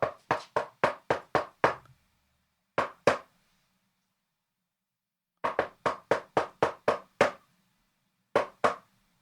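Sharp knocking on a door in distinct bursts: a rapid run of seven raps, a pause, a double knock, then another run of seven and a final pair, close and crisp with silence between.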